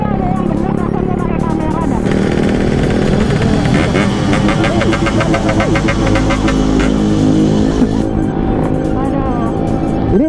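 A Yamaha R1 sport motorcycle engine roars loudly and close, revving repeatedly with rising and falling pitch and a rapid buzzing rattle, while voices chatter over it throughout.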